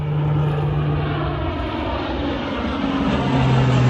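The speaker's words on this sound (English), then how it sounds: "Getting a little bit of a flyby. That was kind of cool." A low-level military aircraft flying over Algonquin Park, a steady loud engine drone holding across the whole stretch, with a faint shift in pitch near the end and no talk.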